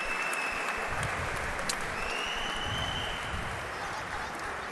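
An audience applauds at a frontball World Tour 2014 trophy ceremony: a steady wash of clapping holds at even strength throughout, with thin whistle-like tones drifting over it.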